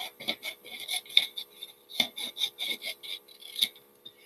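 Scissors snip off the excess edge of folded paper for a snowflake, giving a quick run of close, crisp cuts and rustles, fairly faint and uneven in rhythm.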